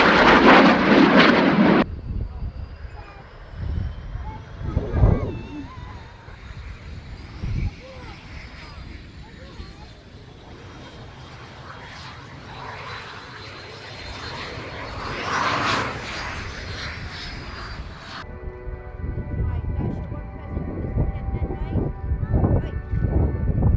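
A T346 jet roars past at the RIAT 2019 airshow, a loud broadband rush that swells, peaks and fades, with announcer commentary over it.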